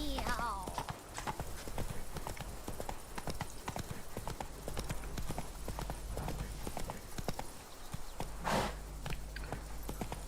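Roach, a horse in The Witcher 3: Wild Hunt's Blood and Wine expansion, gallops with steady, loud hoofbeats and snorts a neigh midway, while a voice speaks over the riding.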